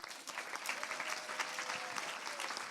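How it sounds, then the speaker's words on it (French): An audience at a conference panel colloquium applauds to welcome a panelist to the stage, dense steady clapping of a mid-sized crowd heard at moderate distance, with a faint voice underneath. "Dans un tonnerre d'applaudissements, tout le monde,"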